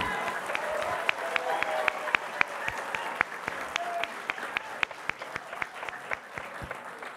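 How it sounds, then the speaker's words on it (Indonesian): Enthusiastic applause from a Democratic Party gathering greets Anies Baswedan, Governor of Jakarta, as a steady crowd wash with sharp, distinct nearby claps punctuating it at an irregular pace throughout. "Mari berikan tepuk tangan yang sekeras-kerasnya, Bapak Anies Baswedan."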